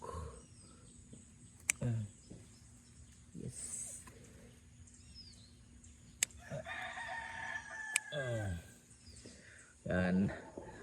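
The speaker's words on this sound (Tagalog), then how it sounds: "Ingay ng manok." A farm rooster crows a long cock-a-doodle-doo partway through, at moderate distance, with scattered clucks and a person talking nearby between the calls.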